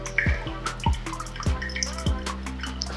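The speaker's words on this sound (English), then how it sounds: "Wait for the water to drip through and you're done." Coffee drips steadily through a Hario V60 pour-over dripper in a quiet space, each drop landing with a distinct plop roughly every half second, close and clear with no talking.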